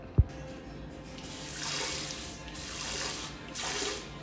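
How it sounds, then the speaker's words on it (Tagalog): A bathroom bidet sprayer bursts on after a sharp click, then hisses in a strong, steady spray of water that briefly wavers and continues to the end. "Bidet check."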